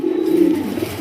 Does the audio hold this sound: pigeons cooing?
yes